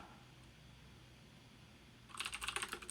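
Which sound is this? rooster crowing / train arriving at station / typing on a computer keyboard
typing on a computer keyboard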